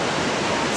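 Iguazu Falls on the Brazil–Argentina border, seen from a distance, gives a steady, dense wash of falling water, a broad continuous roar with no breaks and no voices.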